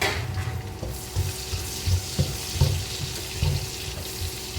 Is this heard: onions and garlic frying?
yes